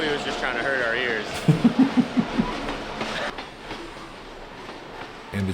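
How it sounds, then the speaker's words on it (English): A train rolls past a disc golf hole at the 2022 Savannah Open, a steady rumbling with a short run of rhythmic clacks in the middle, heard behind commentators talking. "the train does add to the difficulty of the hole"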